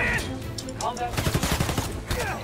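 Rapid gunfire is aimed at the player in the Spider-Man Miles Morales video game, a quick rattling burst under loud game sound effects and music, with a voice talking over it.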